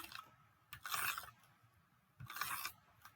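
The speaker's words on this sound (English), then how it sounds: "Just paper that I ripped." Paper is ripped in two short, dry, rasping tears separated by a quiet pause, heard close up with no voices.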